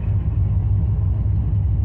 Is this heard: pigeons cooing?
no